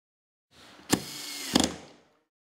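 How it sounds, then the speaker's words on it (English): A Milwaukee 12V screwdriver driving a 1-inch by 8 screw into a piece of wood, a brief quiet motor whir lasting about a second and a half with two sharp clicks, heard alone. "Just look at how many 1-inch by 8 screws we drove into this piece of wood"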